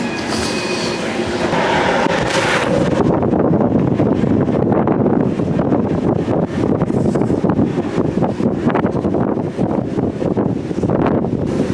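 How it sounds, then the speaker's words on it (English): Strong wind roars continuously across the microphone on the deck of the cruise ship Carnival Miracle at sea, a dense, heavy rush of noise that never lets up, loud and close. "When you get up in the wind, it's crazy."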